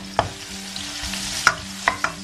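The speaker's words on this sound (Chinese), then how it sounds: "油热以后我们爆香葱姜蒜" Scallion, ginger and garlic stir-fry in hot oil in a wok, with a low steady sizzle broken by a few sharp spatula clanks and scrapes, close by and with no speech.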